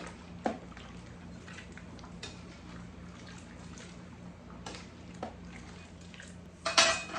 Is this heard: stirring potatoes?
yes